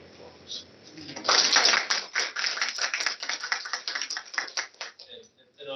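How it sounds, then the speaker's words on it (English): An audience at a Kentucky Board of Education meeting claps for students in a round of applause, many sharp hand claps that swell quickly, hold steady, then thin out and stop near the end. "give our students who represent the entire Commonwealth a hearty round of applause."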